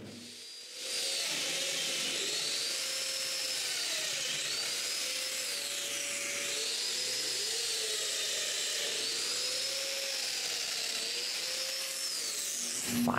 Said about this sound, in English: I mark for the domino mortises and drill them.